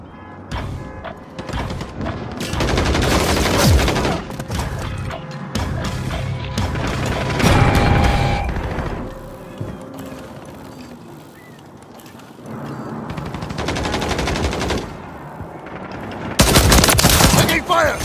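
Heavy video-game firefight around an objective, with loud bursts of automatic gunfire and single shots that swell and fade, plus scattered impacts, radio-style callouts and voices.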